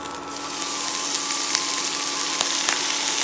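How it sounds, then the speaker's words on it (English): Fenugreek (methi) leaves frying in a couple of teaspoons of oil in a small pan, a steady, dense sizzle that holds evenly throughout, close and fairly loud with no talking. "then I'm going to saute methi or fenugreek leaves for a couple of minutes"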